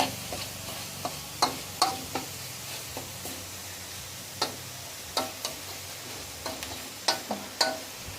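Frog meat stir-fries in a hot wok, a steady sizzle broken by sharp, repeated clacks of a utensil against the pan.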